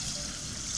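Water is poured into a pot of mixed rice with a continuous close splashing trickle that lasts under a second.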